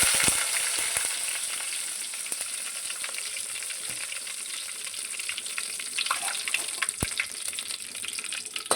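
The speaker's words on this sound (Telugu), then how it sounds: "ఆయిల్ వేడెక్కిన తర్వాత నేను దీంట్లోకి 3 లవంగాలు, 2 దాల్చిన చెక్క ముక్కలు, బిర్యానీ ఆకు, బిర్యానీ పువ్వు వేసుకున్నాను" Cloves, cinnamon pieces, bay leaf and biryani flower fry in hot oil for an okra rasam, giving a continuous close, crackling sizzle with a few sharp pops and light stirring; no voices are heard.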